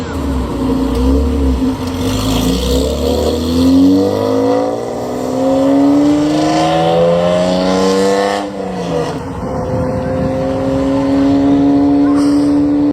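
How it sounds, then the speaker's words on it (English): A Honda NSX V6 engine revs steadily, its pitch sweeping up and down through several climbs before settling into a loud, sustained high drone. "The NSX's V6 produces a distinctive mechanical symphony that's uniquely Honda"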